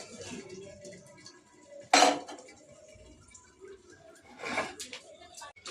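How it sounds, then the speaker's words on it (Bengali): A lid set over a pot of boiling tomato chutney, two loud metallic clanks a few seconds apart over a low bubbling background, with faint talk between them. "এত ফুটছে বলে একটু ঢেকে দিই।"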